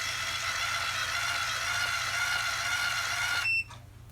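An automatic curling iron signals its timer mode with a short electronic beeping as it curls long hair, a steady high-pitched tone that stops abruptly near the end, heard close up without talk.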